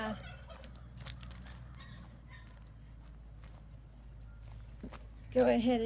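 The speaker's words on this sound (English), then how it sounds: "We got the turkeys and the chickens down here." Turkeys and chickens call and cluck with a brief turkey gobble near the end, mixed with footsteps and a person talking nearby.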